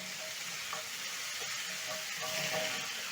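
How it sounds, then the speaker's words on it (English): Steady sizzling of pork sautéing in a frying pan, a continuous hiss with faint clinks and stirring scrapes, close and moderately loud, no talking. "saute everything for about a minute or until I have some lovely golden brown color"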